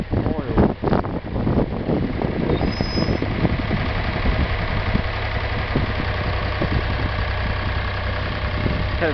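An old tractor engine with a fault that sprays oil runs at a steady, knocking idle, loud and close, with someone talking over it at the start.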